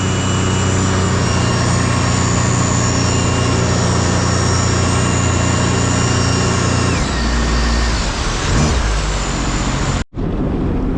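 Sea-Doo RXT jet ski with a stage 1 budget setup, its engine running loud and steady at high revs, then dropping off sharply near the end before a brief cutout.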